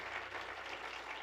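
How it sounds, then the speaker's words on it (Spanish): A church congregation clapping, a brief steady wash of many hands applauding together in a large room. "If that hand clap is for the Lord, go ahead and give it to him with all your heart."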